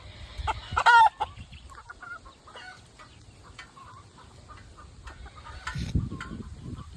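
Chickens and a rooster cluck on a farm, with a few short clucks and one louder call near the start, scattered quieter cackles after, and a soft rustle toward the end.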